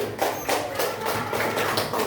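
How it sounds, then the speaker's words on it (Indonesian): A classroom group of students applauding together, a dense run of claps that stays steady and fairly loud throughout with no voices over it. "Bagus, tepuk tangan untuk kelompok satu"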